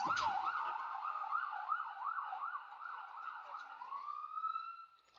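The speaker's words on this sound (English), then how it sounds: "Oh, a momentary break in the sirens." A wailing emergency vehicle siren cycles rapidly up and down, then shifts into a long rising tone before fading, heard at moderate distance at a homecoming parade with no talk.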